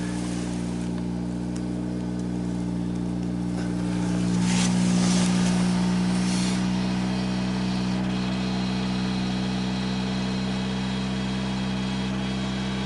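A 1991 Mazda Protege engine idling steadily after a cold start at -22°C, a low, even drone that swells briefly, with faint belt noise over the hum.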